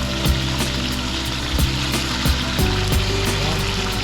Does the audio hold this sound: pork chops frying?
yes